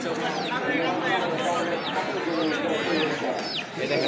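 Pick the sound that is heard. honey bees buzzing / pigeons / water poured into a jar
pigeons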